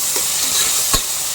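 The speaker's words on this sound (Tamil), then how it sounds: "இது கொஞ்சம் வதங்கட்டும்." Masala for mutton curry sautéing in a pan, a steady close broadband sizzle with stirring and one sharp scrape of the spoon near the end.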